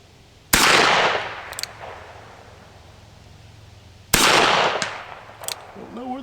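Two loud, sharp .357 shots from a Henry Big Boy revolver crack about three and a half seconds apart outdoors, each followed by a decaying echo and faint clicks.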